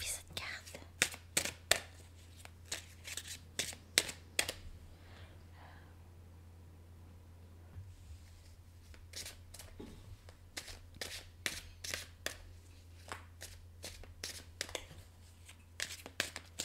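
Tarot cards shuffled and flipped at close range, a quick run of crisp riffling snaps and dry paper slaps in bursts, pausing in the middle before resuming, over a low steady hum with soft whispered speech.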